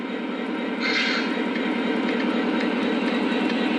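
O gauge model train engine rolling across a sensor track section on a home layout, a steady close mechanical rumble and hum with faint clicking, no talking.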